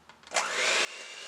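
An electric mixer beats vanilla-flavored sorrel cake batter in a brief burst, a whirring motor hum rising sharply and holding for about half a second before cutting off, moderately close and fairly quiet.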